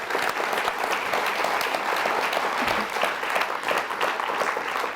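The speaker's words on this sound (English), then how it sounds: "I'd like everybody to give the organizers some applause" Sustained applause from a large audience thanking the organizers at a library lecture event, a dense, steady wash of clapping hands that stays loud and even for the full five seconds.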